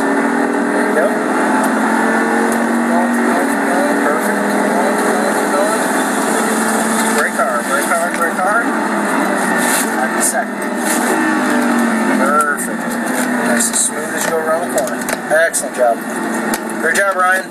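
Audi R8 sports car accelerating on a track, a steady loud engine drone that rises and wavers as the throttle is squeezed, with an instructor talking over it throughout.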